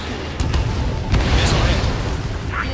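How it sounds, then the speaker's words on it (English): A loud, rumbling missile-hit explosion in the combat flight game Ace Combat 7, a dense low boom with crackling debris that rolls over the steady roar of jet engines, with radio chatter layered on top. "Missile hit."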